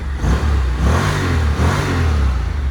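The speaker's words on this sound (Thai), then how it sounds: "อันนี้เป็นเกียร์ว่างนะครับเกียร์ว่างก็แน่นอนครับเร่งได้" A Honda NM4 motorcycle engine revs in neutral, a steady, loud, close rumble that rises and falls slightly in throttle bursts without pause.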